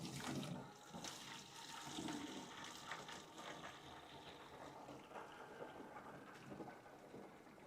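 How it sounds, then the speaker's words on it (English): Fluid pours from the spout of a Tuff Jug gas can while displaced air vents up a tube into a second jug on top, giving a steady close gurgling, splashing stream with no talk. "it's displacing the air in here up the vent tube and into the top jug and still being able to dispense all the fluid"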